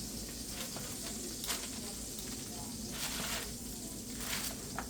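Chicken sears in a hot pan after being flipped, giving a steady, soft, continuous sizzle with a few faint crackles throughout and no voices.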